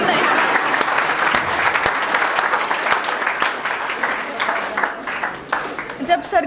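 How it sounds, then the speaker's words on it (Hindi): An audience at a free coaching and book distribution event in India claps loudly and continuously, with dense, uneven hand claps close by throughout. "दोबारा ताली बजाएं।"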